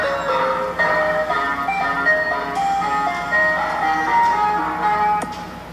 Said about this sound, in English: Hannah captures what looks like an ice cream truck making a U-turn on her road